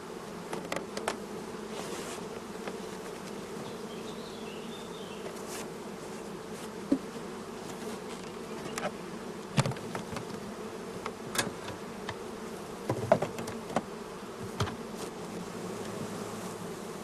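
Honey bees buzzing around brood frames while a hive nucleus is being formed, a steady dense hum lasting throughout with occasional faint clicks and knocks, close and even.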